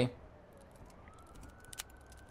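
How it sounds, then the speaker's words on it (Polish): A police car in the video game Mafia 2 passes by, a faint siren-like tone sliding gently upward and holding steady across a couple of seconds, with a few sharp clicks over it and a brief noisy burst near the end. "Poczekam aż przejedzie policja."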